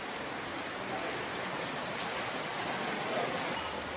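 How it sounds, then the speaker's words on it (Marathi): Heavy cloudburst-like monsoon downpour in Buldhana, a dense, steady roar of rain pounding surfaces, loud and unbroken throughout, with no voices. "ढगफुटी सदृश्य पाऊस झालाय"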